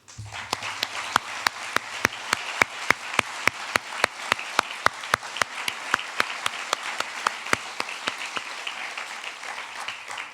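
An audience at a middle school closing ceremony applauds the faculty as they stand. Crisp, evenly spaced claps ring out in a steady, almost metronomic rhythm for about ten seconds, moderately loud against a soft room wash.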